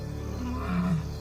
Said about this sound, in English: Their roars travel further after dark when the air is cooler.